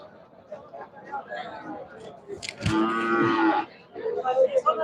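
A Friesian cow gives one long, loud moo amid a crowded cattle market, while someone talks nearby and crowd murmur fills the background.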